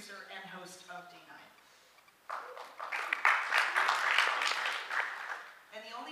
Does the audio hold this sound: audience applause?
yes